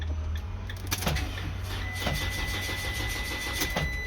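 Starter motor cranking on a 2014 Dodge RAM Promaster 3500 van with a no-start fault, heard as repeated short whirring pulses over a low steady hum, fairly faint.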